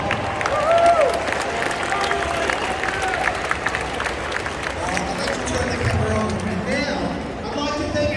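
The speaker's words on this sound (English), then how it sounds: "Give them a big round of applause if you could." A large outdoor rally crowd applauds, a dense wash of clapping and scattered cheers that carries on under a voice speaking over a loudspeaker.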